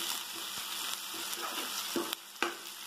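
Onions frying in hot oil in a pan for a North Karnataka onion and greens palya, giving a steady close sizzle with occasional sharper pops and crackles throughout.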